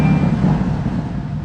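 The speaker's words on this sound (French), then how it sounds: "Et hop, on démarre, je vous laisse écouter." A Porsche Cayenne GTS V8 engine runs just after starting, a loud, close, steady low rumble that holds evenly throughout with no talking.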